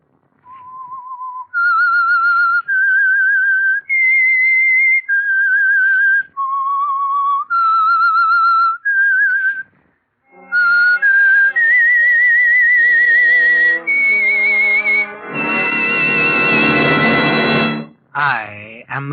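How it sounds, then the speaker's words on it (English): A lone whistler performs the eerie theme tune signal of The Whistler radio show, a clear melodic run of sustained notes that gives way to swelling orchestral music, loud and close. "That whistle is your signal for the Signal Oil program"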